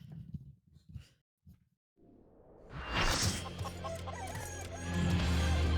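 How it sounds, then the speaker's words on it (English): Chickens in a video game break into loud clucking and a crowing burst after a few soft thumps and a near-silent gap, the flock noise swelling and staying busy to the end. "Oh my god, the chickens!"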